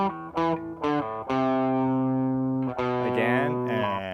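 An electric guitar with heavy distortion plays a riff: a few clipped notes, then long sustained ringing tones that slide downward, loud and gritty with no voice over it.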